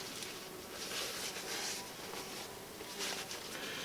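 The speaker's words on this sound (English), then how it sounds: "I don't know whether you can hear that wasp" A wasp buzzes faintly and continuously in the background, its drone rising and falling slightly as it moves about, with no voices.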